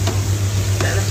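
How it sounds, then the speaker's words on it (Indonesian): Chicken frying in a pan while being stirred, a steady sizzle with a couple of brief scraping stir strokes over a constant low electrical hum, close and alone. "Ya, tu pun aku nak goreng ayam."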